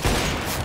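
Gunfire in a Counter-Strike match: a dense, brief burst of shots with an echoing boom, loud and close, lasting under a second.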